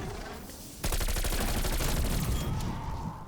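SMG fire in Black Ops Cold War zombies mode: a sustained rapid-fire burst of evenly spaced shots starts abruptly and rattles on loudly for over two seconds over a background of game noise.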